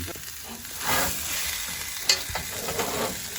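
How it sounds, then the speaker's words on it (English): A rib eye steak sizzles loudly as butter is basted over it, a close continuous frying hiss with some stirring and scraping and one sharp tap partway through. No one speaks. "And we're buttering the steak."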